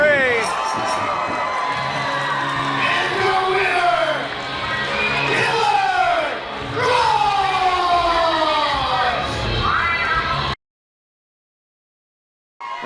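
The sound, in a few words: wrestling crowd chanting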